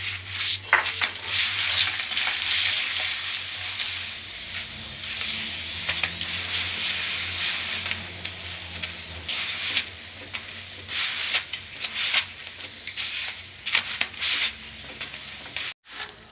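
A paratha fries in ghee in a pan over a medium stove flame, giving a steady loud sizzle and hiss with occasional stirring and scraping against the pan, close up and without talk.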